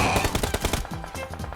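Rapid bursts of gunfire in a battle royale video game, close and loud, a quick string of sharp shots that thins out toward the end, with no talking.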